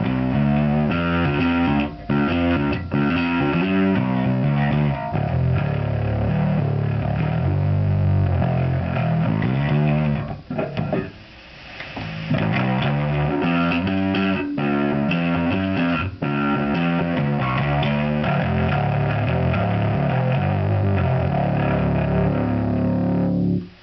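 Heavily distorted, fuzzy bass guitar, a passive Jazz bass through a Fender Sublime Bass Fuzz pedal, playing a repeating riff, thick and loud with some hiss, with a brief pause in the middle before resuming.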